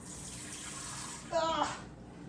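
Tap water runs briefly into a kitchen vessel while beef is being prepared, a short, fairly close gush lasting under half a second over faint background noise.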